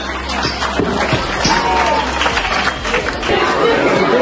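Audience of students clapping during a quiz at a school field-trip event. Scattered, uneven claps rise over steady crowd chatter and shuffling at moderate loudness.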